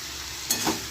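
Kolmi shak sizzles steadily in a pan as about ten grams of whole poppy seeds are tipped in, giving a short soft rustle and patter over the continuous frying hiss.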